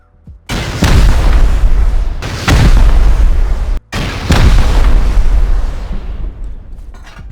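Rockets explode against a base during a raid in the video game Rust, three heavy booming blasts in quick succession, each with a long rumbling tail, loud and close.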